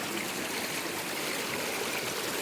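A river swollen and muddy after rain flows at night with a steady, even rushing of water. There are no breaks or other sounds.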